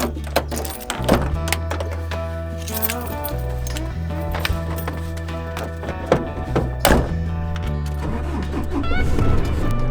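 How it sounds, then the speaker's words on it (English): A lorry engine starting and settling into a deep, steady idle rumble, with scattered knocks and clunks close by. "that's the lorry started up"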